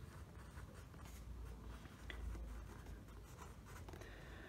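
Pen or pencil writing on paper while noting the givens of a geometry problem, a quiet continuous scratching with small strokes and taps, close and faint, no talking.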